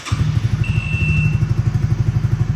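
A 2022 Honda Winner X motorcycle engine starts with a brief crank and catches into a loud, close, rapid rhythmic idle that keeps thumping steadily.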